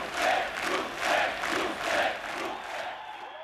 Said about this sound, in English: watched and the crowds cheered.